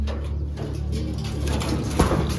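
Soft, low cooing of pigeons in a loft rolls on steadily, close by, with a faint rustle and a brief knock near the end.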